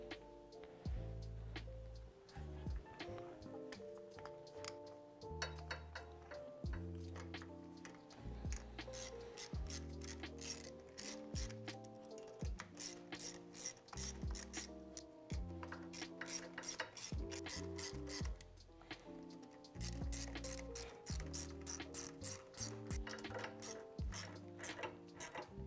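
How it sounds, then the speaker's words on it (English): A ratchet clicks rapidly and steadily while reinstalling the three bolts on a Royal Enfield Himalayan oil filter cover, repeated bursts of metallic ticking close by, with brief pauses between runs. "Set the gasket on and we'll reinstall the three bolts."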